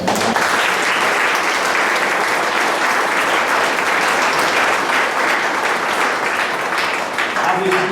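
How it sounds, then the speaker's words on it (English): An audience applauding at a high school cross country awards night: sustained, dense clapping from a large crowd, loud and even throughout, with no pause. "so if you give him a round of applause"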